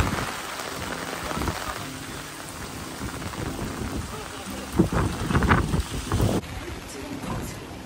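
Rain falls steadily on a walk through Tokyo, a soft hiss of drops on surfaces with scattered heavier splashes and a few louder rustling bursts, with no clear talk over it.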